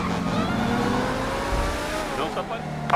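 In-game car from GTA V speeds away from pursuing police, its engine note climbing steadily for three seconds under game sound and nearby talk.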